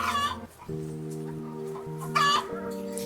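Chickens cluck and murmur nearby, with a steady low humming tone running underneath and no voices.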